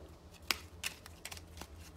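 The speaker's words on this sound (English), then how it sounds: "a slip cut looks like this" A slip cut is performed with a deck of playing cards, heard as a few quiet, close card snaps and slides spread over two seconds, alone without talk.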